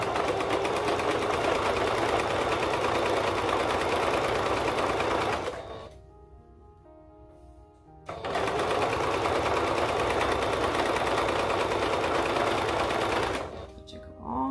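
A sewing machine stitches a crop top seam in a steady, loud whirring run, pauses for a couple of seconds, then starts up again in another long, even run.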